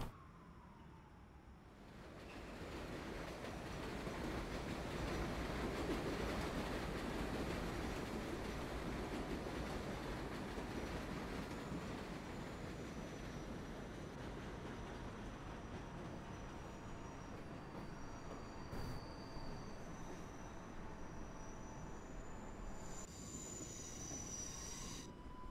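A number 7 local subway train in the game World of Subways 4 rolls along the rails near Corona Plaza, a loud continuous rumble with high wheel squeal rising over it, steady for the whole stretch.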